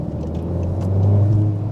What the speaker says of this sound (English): get the revs up right, it'll pull away without a problem